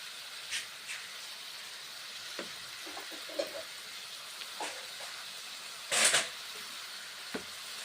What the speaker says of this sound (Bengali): নেড়ে চেড়ে নিচ্ছি কুমড়ো শাকগুলোকে।